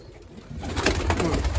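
Pigeons coo in a loft where a hen sits on eggs among young squabs, a soft continuous murmur that swells and grows busier partway through, with no talking.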